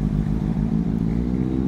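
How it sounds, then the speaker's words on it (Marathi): A BMW S1000 RR sport bike with its stock exhaust runs close and loud, its engine a steady, dense rumble that holds without a break and with no one talking. "गाईज ही आहे BMW S1000 RR."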